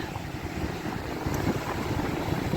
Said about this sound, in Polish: ale wiatr, na pewno słyszycie to